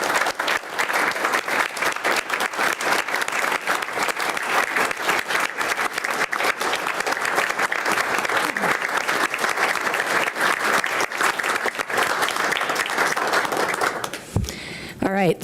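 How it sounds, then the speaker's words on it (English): Audience applause at a Yankton city commission meeting, a dense steady clapping from a room full of people lasting most of the clip, close and loud, fading out near the end as a voice begins. "let's all give him one more round of applause."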